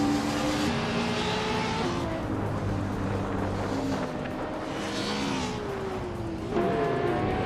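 A 2015 Ferrari F12 TTF race car engine in a racing game, a steady loud drone whose pitch climbs through the gears and drops at shifts, held close and continuous throughout.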